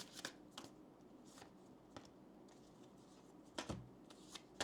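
Oracle and tarot cards are shuffled close by in quiet, irregular bursts of riffling and flicking, with no talking.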